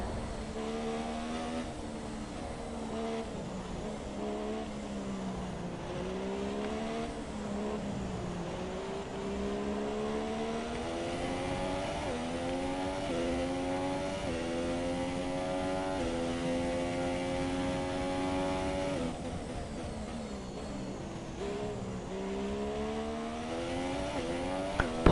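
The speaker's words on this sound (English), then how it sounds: "Pulling away now, almost 4 seconds ahead of Valerie Bottas here in the Chinese Grand Prix." A Formula 1 car engine in F1 2017 on PS4 at the Chinese Grand Prix whines steadily, with its pitch climbing through gears in repeated rising sweeps and dropping on downshifts, loud and continuous with no talk.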